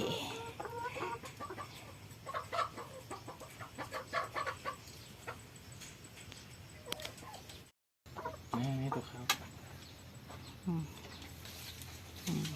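Egg-laying hens cluck repeatedly in short bursts close by, mixed with other farmyard noise and occasional voices, with a brief dropout partway through.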